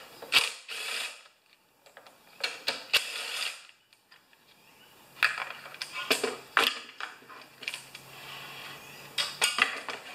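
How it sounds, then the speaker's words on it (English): Clicking ratchet bursts from a 10 mm ratchet wrench working on a Powersmart lawn mower, close and fairly loud, coming in repeated short runs of rapid clicks with brief pauses between. "So 10 millimeter on a on a ratchet wrench."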